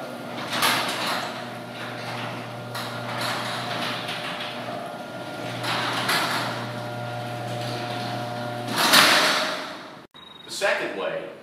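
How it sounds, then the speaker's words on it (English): A garage door is driven closed by its opener with a steady motorized hum and low drone lasting several seconds, then ends with a louder thump and clatter as it reaches the ground. A voice talks over the sound. "First is to hold the button until the door gets all the way to the ground."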